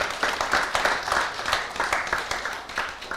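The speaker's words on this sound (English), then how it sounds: "give a big round of applause to all of us here" Applause at a devotional assembly during a Srila Prabhupada appearance day festival, a few seconds of steady, fairly close hand clapping with uneven peaks and no talking.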